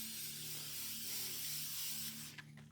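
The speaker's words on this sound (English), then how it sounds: "I just kind of spray it right on the cloth" A cleaner is sprayed onto a cloth for a kids' bike chain, producing a steady broadband hiss that runs for a couple of seconds, close and alone, with a steady low hum beneath it.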